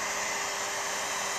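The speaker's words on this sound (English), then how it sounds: "So we start the pump, fully advance the tool forward" The pump of a WREN hydraulic torque wrench runs with a steady, dense mechanical whir at constant loudness, close by and with no talk.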